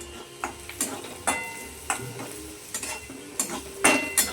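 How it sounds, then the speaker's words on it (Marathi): Onion sautéing in a pan, cooked until reddish, gives a low sizzle. A spatula repeatedly scrapes and taps the metal pan in irregular, close strokes about every half second, with no speech. "हे बघा, असा लाल होईपर्यंत कांदा आपल्याला असा परतून घ्यायचा आहे व्यवस्थित।"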